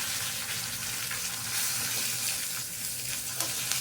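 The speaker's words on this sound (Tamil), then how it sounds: "பாருங்க, கொஞ்சம் கருவேப்பிலை போடுறேன். கொஞ்சோண்டு பெருங்காயம்." Curry leaves and a pinch of asafoetida hit hot oil for Karnataka-style bisibele bath, giving a steady loud close sizzle and crackle that runs without a break and has no talk over it.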